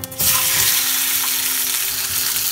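Raw mango pieces drop into hot oil in a pan over a medium flame and set off a sudden loud sizzle. The sizzle holds steady and close until the end.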